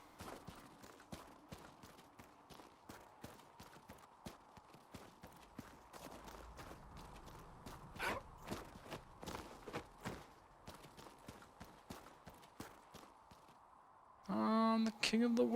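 Horse hooves clip-clop close by in the fantasy role-playing game Dragon Age: Inquisition, a steady run of sharp knocks over a busy game soundscape before a brief musical swell near the end.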